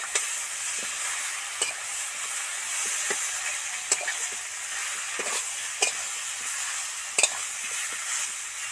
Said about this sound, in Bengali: মশলাগুলো ভালো করে মেশানোর জন্য একটু সামান্য জল ছড়া দিলাম দিলে আর নিচে ধরে যাবে না